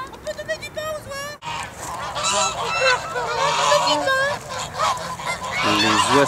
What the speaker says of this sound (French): Et regardez, il y a des oies là-bas.